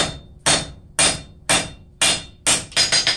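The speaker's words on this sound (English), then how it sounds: "We're going to continue on forging here." A blacksmith hammers hot metal while forging a gauge: loud, close ringing blows land about every half second, six or seven strikes in all, quickening slightly toward the end, with no talk.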